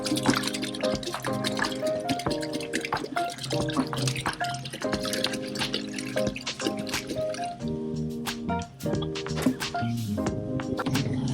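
Two gallons of liquid bleach (sodium hypochlorite) pour and splash into a bucket while mixing a paver cleaning solution, a steady close wet gush and dribble running throughout beneath background music.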